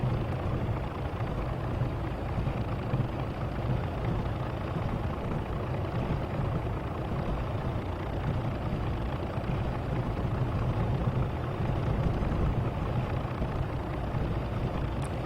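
A BR Class 37 diesel locomotive engine in Train Simulator 2015 on the Western Lines of Scotland gives a steady, low rumbling drone that holds evenly throughout without speech.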